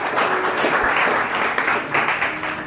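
A church congregation claps in sustained, dense applause that stays loud and even across the whole stretch, with some faint voices mixed in.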